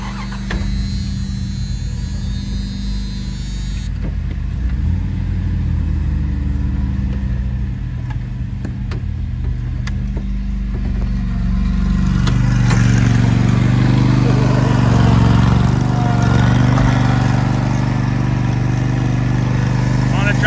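A Scag lawn mower engine with a broken drive belt runs steadily on grass, a continuous low droning hum that grows slightly louder and fuller partway through, with faint voices underneath.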